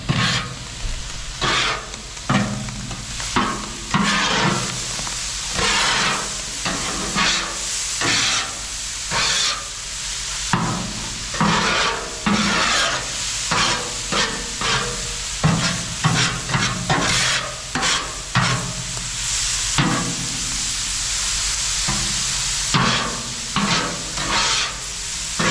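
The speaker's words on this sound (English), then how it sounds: "Now we're going to mix everything together." Philly cheesesteak filling frying in a pan is stirred vigorously, with rhythmic scraping strokes punctuating a loud, steady sizzle and no voices.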